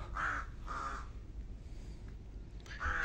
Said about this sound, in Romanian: o cioară care se aude în zbor